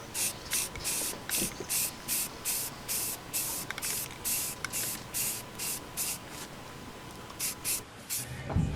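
Rust-Oleum rusty metal primer hisses from an aerosol can onto Jeep XJ metal in a regular series of short, close spray bursts with brief pauses between them.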